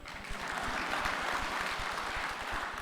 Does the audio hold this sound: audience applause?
yes